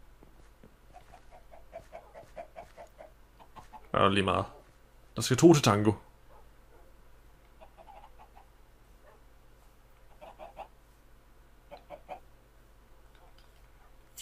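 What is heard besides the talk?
chickens clucking in Minecraft (video game)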